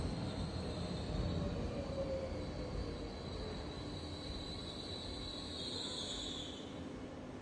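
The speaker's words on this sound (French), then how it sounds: "Je suis assise à une gare" A train at a railway station rolls past with a steady rumble and faint, high wheel squeal, moderately distant and drawn out over several seconds, with no talk.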